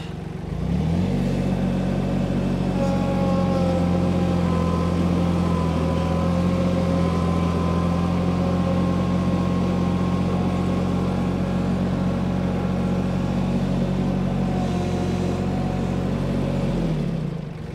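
A tractor engine runs steadily at a loud, constant drone while driving onto a muddy field, with no talking over it.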